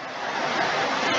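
A steady, dense roar of heavy rain pouring down, loud and unbroken throughout.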